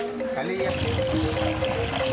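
Water pours from a hose in Bali, running as a steady splashing trickle under a busy outdoor background with some tonal hum.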